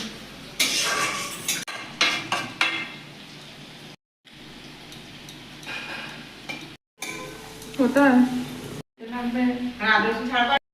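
Fried rice with carrots stirred and frying in a pan, sizzling hiss mixed with repeated scraping and clinks of the utensil against metal in uneven bursts, broken by short gaps, with someone talking over it.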